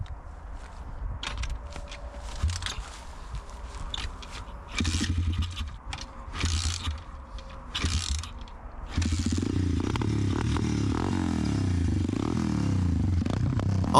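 An abandoned Spider-Man themed motorcycle clatters and turns over with mechanical scraping, then catches and settles into a steady, loud engine run for the last several seconds, close to the microphone.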